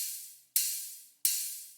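Ride cymbal layered into a drum and bass beat, two bright splashy hits about two-thirds of a second apart, each washing out and decaying, isolated and clean.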